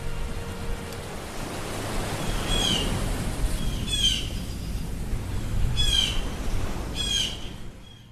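Several brief bird squawks and chirps ring out at intervals over a steady hiss of surf or wind, fairly distant and moderate in level.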